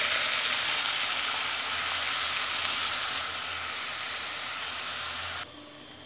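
A dried red chilli frying in hot oil in a wok makes a loud, continuous sizzling hiss that holds steady for several seconds, then drops off abruptly near the end.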